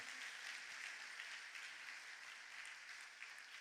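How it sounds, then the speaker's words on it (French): A church congregation applauds during a Sunday morning service, a dense, even wash of clapping that sounds soft and somewhat distant, continuing steadily throughout without talk. "Nous allons applaudir la parole de Dieu bien fort ce matin."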